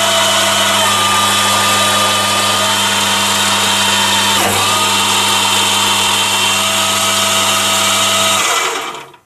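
A Chinese mini lathe runs with a loud, steady mechanical whine and hum; midway a brief clunk and pitch dip marks the gears slipping into automatic reverse, then the motor spins down at the end.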